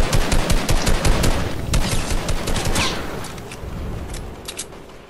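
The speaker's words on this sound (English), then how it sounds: "I'm shooting at those guys in the air" Sustained rapid gunfire in a Fortnite match, dense bursts of shots crackling loudly and nearly without pause before tapering toward the end, with no talk over it.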